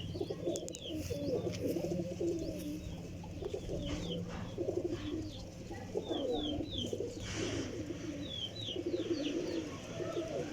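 Soft, repeated cooing of Teddy pigeons, several birds murmuring in low rhythmic coos, with scattered chirps and light rustling around them.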